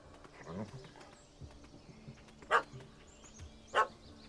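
A puppy barks in the video game The Witcher 3, with a few sharp, distinct yaps standing out over quiet game ambience, alongside softer lower woofs and faint hoof-like clopping.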